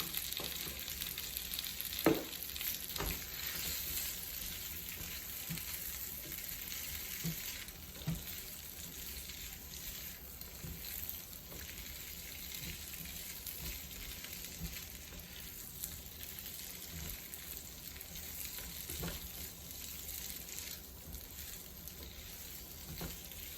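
Curry leaves hit hot oil while an aloo suki sabji cooks, giving a quiet, continuous sizzle and faint crackle with occasional small pops, heard alone without talk.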